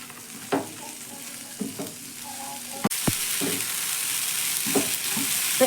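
Food for a healthy tiffin snack being mixed in a hot pan, quiet sizzling punctuated by spatula taps and scrapes, with a sharp knock midway after which the frying hiss grows louder and fuller.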